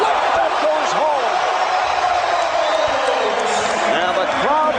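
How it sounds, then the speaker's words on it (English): Arena crowd at the 2003 NBA All-Star Game roaring after Michael Jordan's flip shot, a loud, steady wall of cheering that lasts the whole time, with a commentator talking over it. "And the crowd responds."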